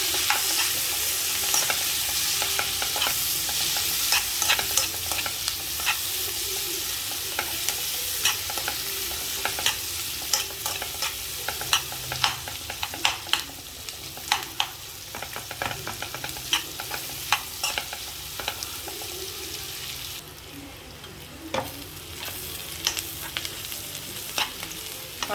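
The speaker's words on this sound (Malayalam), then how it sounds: "ഉള്ളി വഴറ്റി ബ്രൗൺ കളർ ആയിട്ടുണ്ട്." Three medium onions sauté in a hot pan for butter chicken, a loud continuous sizzle broken by frequent sharp scrapes and taps of a spatula as they are stirred until brown.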